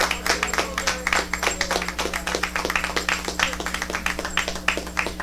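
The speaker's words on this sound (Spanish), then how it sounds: "Si lo vas a aplaudir, apláudelo de verdad." A church congregation claps during a Spanish-language sermon, a steady run of dense, close handclaps filling the room with a low hum beneath, no voices standing out.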